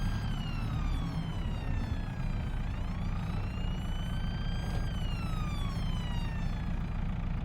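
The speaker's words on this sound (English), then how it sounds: "Is that a siren?" A police siren wails steadily through a farming video game set in Ballyspring, its pitch sweeping up and down in long slow cycles. It is loud and continuous, with no talking over it.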